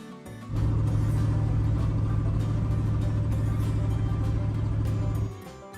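An old farm truck with a manual gearbox idles and revs in one long steady rumbling hum, close and loud, then drops away at the end, with no talking.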